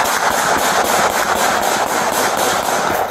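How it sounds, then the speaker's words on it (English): Rapid rifle gunfire from a man firing an assault rifle at deputies serving a warrant, many shots cracking in quick succession and filling the whole stretch, loud and continuous with no talk over it. "We have multiple shots fired."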